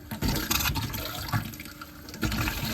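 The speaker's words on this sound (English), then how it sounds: "Hear your water pump kick on." An RV water pump runs while pumping pink antifreeze through the lines, giving a steady rushing, gurgling flow that surges at the start and again near the end, close and moderately loud.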